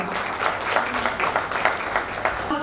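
Audience applause at an official ceremony, a dense, steady crowd clapping that rolls on evenly at close range without pause.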